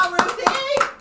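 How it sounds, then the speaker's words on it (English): Hands clap in short sharp bursts, about three distinct claps close by, for fashion designer Ruth E. Carter at an event, with no voices in between. "I want y'all to clap your hands for Ruth E."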